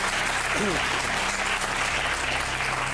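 Steady applause from a crowd fills the whole stretch, dense and even, without pauses.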